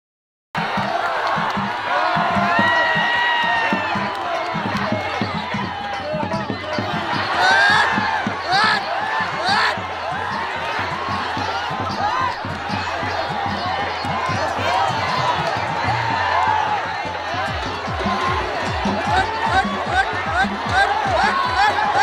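Dense murmur of a large crowd of thousands gathered at a fair to watch Nepali wrestler Deva Thapa wrestle, continuous and fairly loud, with scattered shouts and whoops rising above it and a voice talking over the noise throughout.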